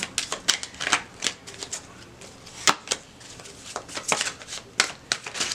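Tarot cards are shuffled by hand in quick riffling bursts, close and crisp, with irregular flicks and slaps repeating for several seconds.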